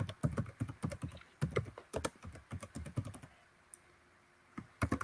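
Quick, fairly quiet typing on a computer keyboard in steady bursts of key clicks, with a short pause before a few final keystrokes.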